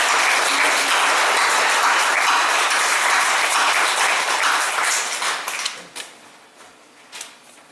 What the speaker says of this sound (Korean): 가영이 박수 한번 할까요?